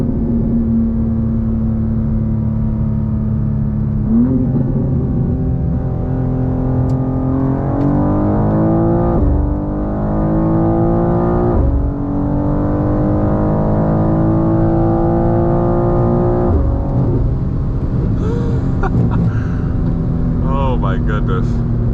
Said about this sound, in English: we'll do one more 60 roll because this car pulls hard on a 60 roll